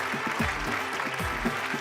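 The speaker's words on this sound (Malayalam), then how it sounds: "നന്നായിട്ട് കൈയടിച്ച് പ്രോത്സാഹിപ്പിക്കുക" Applause from a studio audience on the Super Bumper TV game show, a soft, steady patter of clapping that runs throughout, with a few brief tonal effects layered over it.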